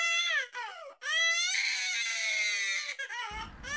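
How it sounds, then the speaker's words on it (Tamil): A baby cries at night in a hotel room, with long, strained wailing bursts broken by brief breaths, fairly loud and close, rising into a sustained high cry before tapering into sobs. "ரொம்ப நேரமா ஒரு குழந்தை அழுதுட்டு இருக்கு"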